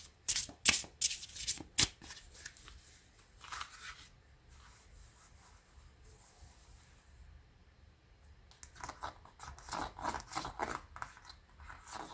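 A deck of tarot cards is shuffled by hand, with brisk riffling bursts at the start, a quieter stretch of soft rubbing, then another run of rapid flutters, close and fairly faint.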